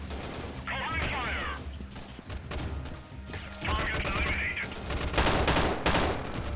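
Bursts of rapid gunfire and scattered shots ring out in the video game Freeman Guerrilla Warfare, loud and dense, with overlapping volleys and a voice talking intermittently underneath.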